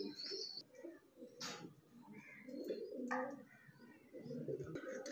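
Pigeons coo repeatedly and close by, soft throaty calls rising and falling with a few chirps mixed in and no talk.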